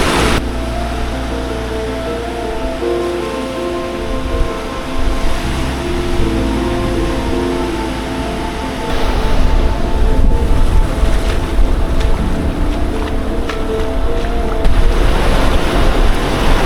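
Waves and surf roll in at Sedahan Beach on the Yogyakarta coast, a loud, continuous wash of water with heavy wind buffeting the microphone and rising surges partway through.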